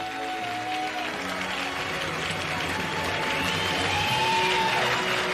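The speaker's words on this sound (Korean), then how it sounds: "선출된 후보님을 비롯해서 네 분의 후보님께 응원의 박수, 축하의 박수 함께 보내주시기 바랍니다" Audience applause for four election candidates at a Seoul Democratic Party primary event, a steady wash of clapping across the whole stretch that grows slightly louder toward the end, with an announcer's voice faintly mixed in.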